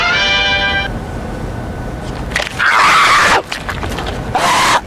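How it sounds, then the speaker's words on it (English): Screams of a terrified 14-year-old autistic boy as a police officer wrestles him to the ground, caught on a police body camera: loud, strained cries in two main bursts amid scuffling and background noise. "Those are the screams of a terrified 14-year-old boy with autism"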